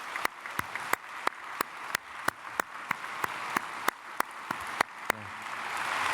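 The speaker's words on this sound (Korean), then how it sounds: "우리 크게 박수로 환영하겠습니다." A church congregation applauds to welcome newcomers at a Sunday service, a steady wash of many hands with a few sharp individual claps standing out, moderately distant and without talk.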